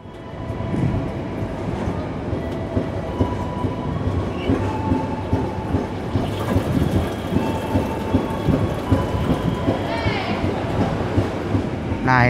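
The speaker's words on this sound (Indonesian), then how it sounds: "ini kereta api Tegal Bahari sudah berangkat dari stasiun Brebes" The Tegal Bahari passenger train runs after leaving Brebes station, a continuous rumbling rattle of wheels and carriages heard from inside, loud and steady with rhythmic clacks.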